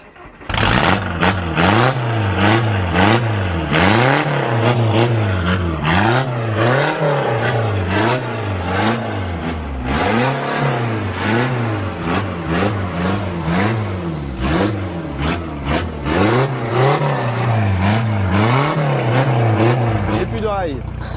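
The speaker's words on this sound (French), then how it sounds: "Le démarrage, voir comment ça chante." A Skoda pickup engine starts and revs up and down in repeated rising and falling surges, loud and close for about twenty seconds, with a voice talking over parts of it.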